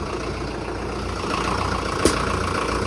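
A new tractor's engine idles, heard from inside the cab as a steady, muffled low hum with one brief click partway through.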